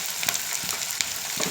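Onions frying in a pan for tomato gojju, a dense steady sizzle with small crackles and stirring scrapes, close and continuous with no voices.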